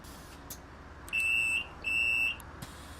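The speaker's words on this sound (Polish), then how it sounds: "czyli sygnał i drzwi się zamykają." In the OMSI bus simulator, the door-closing warning of a Solaris Urbino 10 bus sounds as two clear, evenly spaced electronic beeps, each about half a second long, over a faint background hum.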